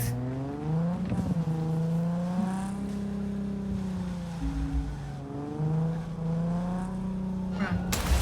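A car driven in the video game Cyberpunk 2077 hums with a steady engine drone that rises and falls in pitch through the drive, while someone talks continuously over it.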